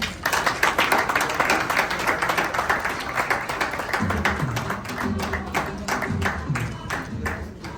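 Dense, continuous audience applause at an award ceremony, loud and steady throughout, with music or tonal sounds joining partway under the clapping.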